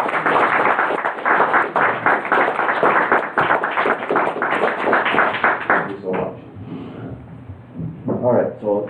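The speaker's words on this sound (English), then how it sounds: "so you guys stand up so I give you guys a quick round of applause" Audience applause at a town board meeting fills the room, a dense steady clatter of many hands for several seconds that thins out near the end as voices take over.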